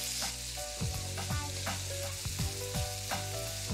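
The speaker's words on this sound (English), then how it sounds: "we're just gonna fry this until it's nicely brown and golden" Sausage roll filling seasoned with cayenne pepper and salt frying in a pan, a close, continuous sizzle broken by repeated scraping stirs, with music or a tonal hum running underneath.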